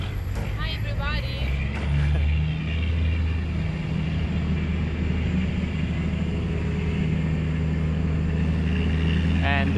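A truck engine nearby in Guatemala keeps up a droning hum, pulsing slightly, behind other road noise. People talk briefly at the start and again at the end.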